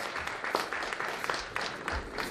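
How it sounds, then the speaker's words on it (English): Applause from the audience at a university Christmas lecture, a short, fairly soft stretch of mixed clapping from a crowd, with a few louder individual claps standing out. "Paige, I think, deserves a round of applause from everybody"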